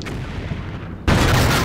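A tank cannon fires in the WWII game Combat Mission: Red Thunder, a sudden loud boom that breaks in after a low rumbling lead-in and holds as a heavy roar.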